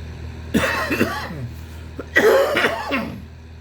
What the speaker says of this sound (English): my cough seems to be getting worse